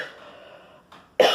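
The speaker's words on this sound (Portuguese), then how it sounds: "É um pigarro" A woman clears her throat once at the end of a short pause, a sharp, loud rasp after a faint breathy stretch, with no talking in between.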